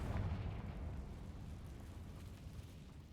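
A Confringo fire spell blast in the Hogwarts Legacy game, a loud rumbling burst at the start that rolls on as a dense, steady roar for the rest of the moment with no talking.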